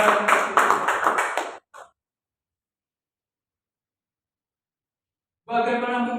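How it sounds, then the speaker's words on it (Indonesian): A church congregation claps hands together in praise, a loud, steady rhythmic burst lasting about a second and a half. Silence follows, then a voice starts speaking near the end. "Tepuk tangan bagi Tuhan."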